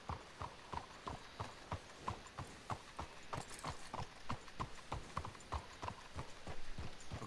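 Horse hooves clip-clopping in the Red Dead Redemption 2 video game, a steady rhythmic trot of several horses heard clearly and fairly close, with no talk over it.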